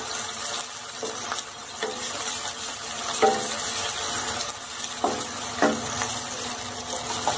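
Chopped onion and spring onion sautéing in a pan, a soft, even hiss of frying with a few light knocks and scrapes of a spatula at intervals.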